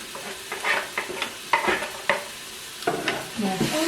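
Chicken, onion and garlic are stirred in a Cookeo pot, with a soft sizzle under a series of scraping strokes and clinks from the utensil, close and moderately loud, no voices.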